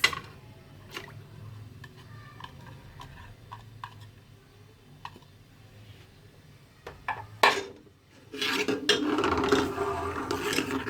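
Chopped onion tipped into hot oil in a pot, a loud burst of sizzling and clatter near the end after quieter kitchen ticks and clinks of utensils.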